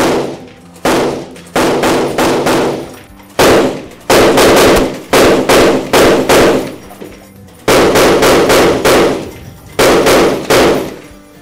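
A SENTRY remotely operated weapon system firing, loud close bursts of rapid automatic gunfire separated by short pauses, with no talk.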